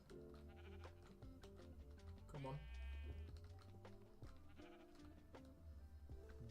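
A sheep in the Minecraft video game bleats once in a short wavering call, heard over background game music and clicking keys while someone speaks briefly.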